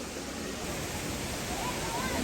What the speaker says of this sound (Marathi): धबधबा आहे तो वरच्या साईडला